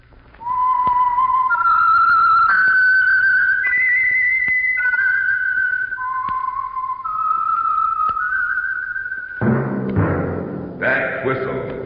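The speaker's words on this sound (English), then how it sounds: "That whistle is your signal for the Signal Oil Program, The Whistler." A lone whistler carries the eerie, slow theme melody of the old-time radio drama The Whistler, clear and prominent with soft thumps beneath, before a burst of orchestral music cuts in near the end.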